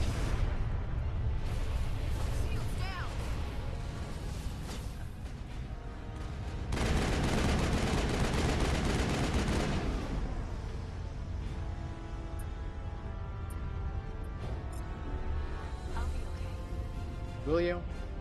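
Gunfire in the Mass Effect finale, sustained bursts of weapon shots mixed with explosions and game music, loudest in a dense stretch midway, with brief voice sounds scattered through.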